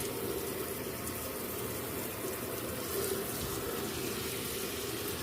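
Water running from a tap into a container being filled halfway for soaking acrylic yarn pieces; a steady, soft rushing splash that continues evenly throughout, fairly quiet and close, with no talking.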